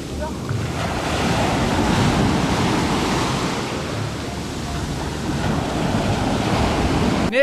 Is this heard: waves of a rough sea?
yes